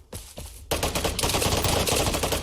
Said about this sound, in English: This gun is full auto and kicks a lot, so you're gonna want to burst fire it